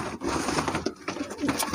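Pigeons coo softly close by, their low murmuring calls overlapping against a noisy background.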